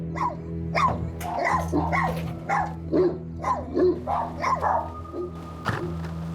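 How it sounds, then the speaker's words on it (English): Several dogs bark in repeated bursts at a delivery truck, loud and close, with yips and growls mixed in over a steady low hum. "who tries to enter his home is met with a barrage of barking"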